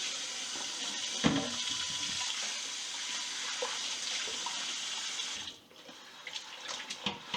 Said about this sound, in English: we've got some hot water running here